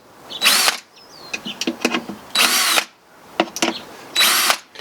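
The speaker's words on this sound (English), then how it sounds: "Using a self-centering drill bit here." A power drill with a self-centering drill bit whirs in three short bursts, close by, with clicks and handling noises of tools in between.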